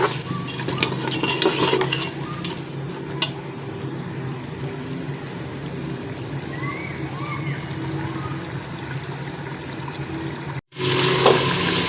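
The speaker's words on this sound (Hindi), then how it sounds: "इसको भून लेते हैं।" Chicken with red chili, salt and cumin-coriander powder is stirred in a pot, with repeated spoon scrapes and clatter against the metal over a soft sizzle; a voice talks throughout.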